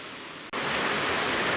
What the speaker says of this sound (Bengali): মুষলধারে বৃষ্টি হচ্ছে, বীভৎস বৃষ্টি, একবারে বন্যার মতো অবস্থা।